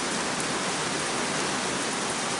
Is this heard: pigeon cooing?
no